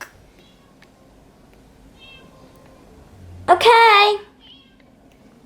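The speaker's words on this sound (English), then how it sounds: "See, hear that meowing?" A pet cat meows loudly and close by in a single drawn-out, wavering call after a brief rustle, set against a quiet indoor room, with a short spoken word nearby.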